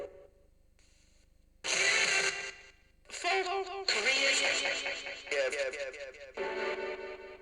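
A radio sweeps rapidly through channels, throwing out choppy bursts of static and clipped voice fragments in quick succession after a brief quiet start.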